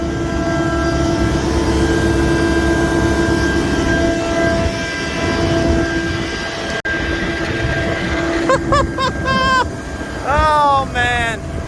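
Tractor engine running in a grassy field during direct seeding, a steady loud drone with a constant hum, with voices and chirpy whistling sounds appearing near the end.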